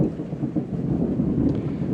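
Rain falls steadily outside as a dense, even rumbling wash with soft patter, broad and continuous for the whole stretch with no talk.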